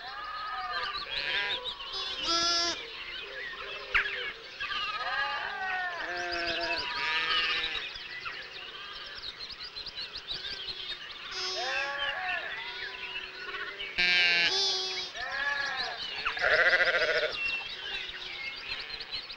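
Sheep and young lambs bleat repeatedly on a farm, overlapping calls of varying pitch near and far, with steady background movement throughout.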